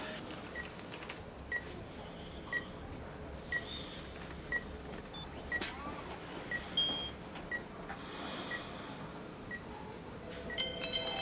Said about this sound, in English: Just her phone going off every 2 seconds.